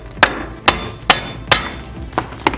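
A hammer strikes a socket placed over the nut and bolt of a car ball joint to drive the hub loose, six sharp metallic blows in a steady rhythm, close and loud.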